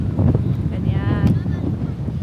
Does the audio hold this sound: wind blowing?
yes